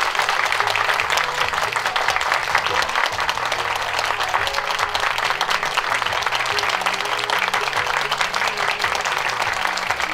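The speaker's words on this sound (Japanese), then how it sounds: "皆様大きな拍手でお見送りください" An audience applauds loudly and continuously as a film stage greeting ends, a dense, even wash of clapping from a large crowd that lasts throughout with no pauses.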